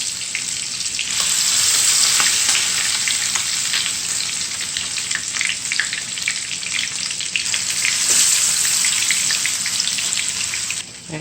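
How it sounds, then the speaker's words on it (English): Garlic chicken pieces fry in hot oil without flour, giving a loud, continuous, crackling sizzle that holds steady for the whole stretch with no talking. "When you put it in, you're supposed to hear that sizzle."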